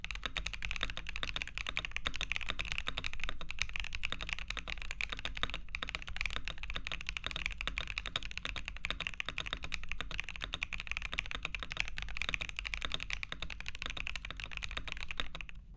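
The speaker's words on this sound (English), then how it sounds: "let's back up and take a listen to this keyboard stock." Continuous fast typing on a stock ASUS ROG Azoth gaming keyboard, dense close clacking keystrokes with a steady rhythm for the whole stretch, no voices.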